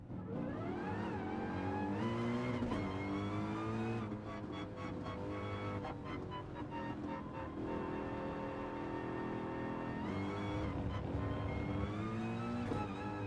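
Race car engines roaring in Gran Turismo Sport played in VR, a steady high revving drone with shifting pitch as cars accelerate and run alongside each other, loud and continuous.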